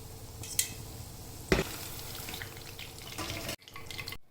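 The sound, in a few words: Korean fried chicken frying in oil on low heat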